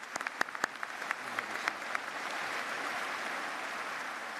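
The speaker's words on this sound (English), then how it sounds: "a round of applause for our faculty" A university commencement crowd applauds its faculty, a few distinct claps at first swelling into a broad, sustained wash of clapping from a large, distant audience.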